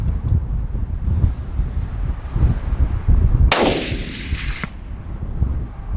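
A single loud rifle shot cracks out at an antelope on a Wyoming hunt, with a sharp blast and a short ringing tail, set against gusty wind buffeting the microphone.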